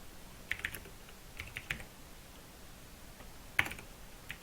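Sparse, faint clicks of typing on a computer keyboard, a few separate keystrokes and a short burst near the end, heard alone in a quiet room.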